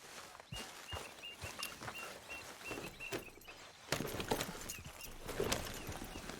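Horse hooves clip-clop at a steady walking rhythm while being ridden in the video game Red Dead Redemption 2, close and distinct, with faint bird calls and ambient outdoor noise behind.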